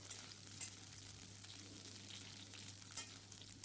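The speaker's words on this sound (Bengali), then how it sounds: "প্রথমে আমি ফুলকপিটা ভালো করে ভেজে নিচ্ছি" Cauliflower fries in hot mustard oil in a wok, giving a steady, close, crackling sizzle that stays fairly quiet and even, with a few louder pops and no talking.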